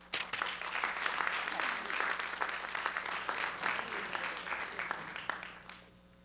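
An audience at a research ethics day session claps to welcome a professor to the lectern, a dense, steady round of applause that fades out near the end.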